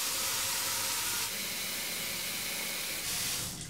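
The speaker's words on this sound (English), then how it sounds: "I'm going to grab my pot and fill it halfway up with water." Tap water rushing into a cooking pot filled halfway for boiling corn on the cob, a steady loud hiss that shifts in tone partway through and tapers off at the end.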